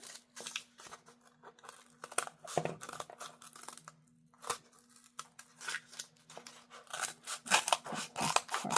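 Scissors snip through craft material in a string of close, crisp cuts with brief pauses and some rustling of the material between them.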